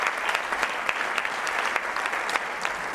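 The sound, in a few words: audience applause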